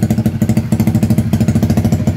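A Honda CB150R Streetfire motorcycle engine runs close up just after an electric start, a loud, fast and even put-put pulse.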